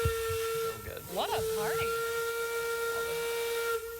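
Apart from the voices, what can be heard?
steam train whistle blowing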